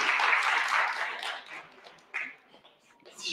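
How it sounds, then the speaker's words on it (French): An audience claps at an anime convention event, a dense burst of applause that slowly thins out, followed by a few scattered claps and a short second swell near the end. "je vous demande d'y faire un tonnerre d'applaudissements"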